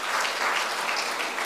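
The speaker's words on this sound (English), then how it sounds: "you can clap, clap for yourselves" An audience claps for itself in an engineering talk hall, a steady wash of many hands that holds at a moderate level for about a second and a half, with no voices over it.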